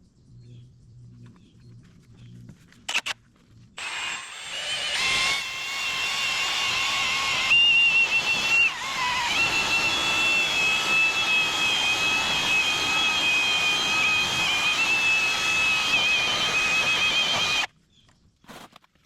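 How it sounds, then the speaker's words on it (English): A power buffer polishes classic Mickey Thompson car wheels. After a few clunks it starts up into a loud, steady high whine, holds for about fourteen seconds, then cuts off abruptly. "now we just got to run the buffer over them and see how they turn out"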